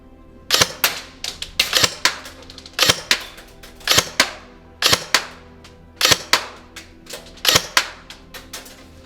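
An ASG CZ Scorpion Evo 3 A1 B.E.T. carbine airsoft gun fires 0.2 gram ASG BBs in semi-auto, with sharp, loud single shots in uneven groups of two or three and short pauses between them.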